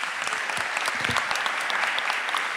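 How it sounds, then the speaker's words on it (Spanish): A regional habitat conference crowd in Mar de Ajó applauds the speakers with sustained, even clapping, fairly loud and unbroken throughout, with no voices over it. "Agradecemos con un aplauso a los expositores."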